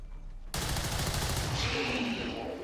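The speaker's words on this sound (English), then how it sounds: "I'm taking fire." Video game gunfire erupts suddenly after a brief quiet: a loud, sustained rapid burst of shots that runs on without pause.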